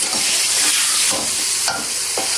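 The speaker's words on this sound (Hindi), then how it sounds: "अब इसको मैं करूँगी अच्छी तरह से मिक्स।" Biryani masala is stirred through biryani in a pot, a loud continuous sizzle with a steady hiss and repeated scraping spoon strokes, close up and without speech.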